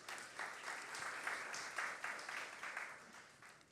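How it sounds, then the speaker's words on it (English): An audience at the global launch of the Biennial Jamaica Diaspora Conference applauds in a steady, faint, distant wash of clapping that holds for a few seconds. "I think that deserves a big round of applause"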